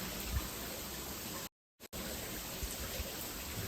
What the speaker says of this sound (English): Pretty little waterfall right there.